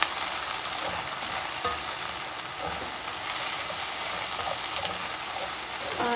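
Chopped onions frying in a pan while being stirred: a continuous, fairly soft crackling sizzle with light scraping touches of the spoon, no talking.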